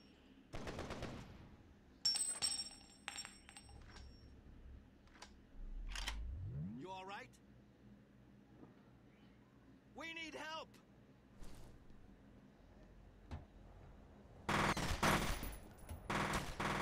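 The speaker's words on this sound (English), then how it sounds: "he's shooting from there" Enemy gunfire in the shooter F.E.A.R., sharp isolated shots and short bursts scattered across the stretch, with a loud burst near the end, mixed with game effects and a player voice talking between them.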